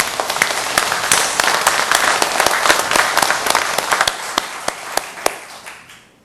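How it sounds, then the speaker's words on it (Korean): A church congregation claps together in applause, a dense burst of many hands with a few sharp louder claps standing out, then fading away near the end. "우리 하나님께 영광의 박수 올립니다"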